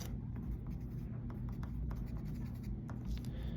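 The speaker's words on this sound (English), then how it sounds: "let me write that" Marker or chalk scratching across a board while a circle is graphed, a steady run of short scraping strokes close by with no talk.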